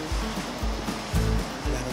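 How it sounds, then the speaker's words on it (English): Water sprays onto a freshly fertilized lawn in a steady broad hiss, with a faint rhythmic low pulsing underneath, close and continuous, with no talking. "I'm gonna throw some water on this."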